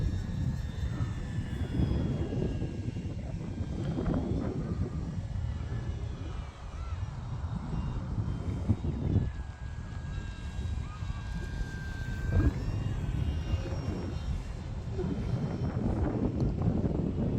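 E-flite F4U-4 Corsair 1.2m RC model airplane flying at about three-quarter throttle, including inverted passes; a steady electric whine rises and fades with passes, mixed with wind buffeting on the microphone outdoors.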